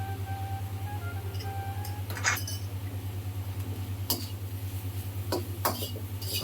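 A spoon scrapes and clinks quietly through vegetables in a cooking pot over a steady low hum, with a few sharper knocks against the metal.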